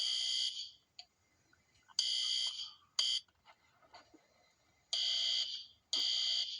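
A school fire alarm sounds in loud, shrill electronic bursts, each lasting about half a second to a second, separated by short gaps and faint background noise with no talking.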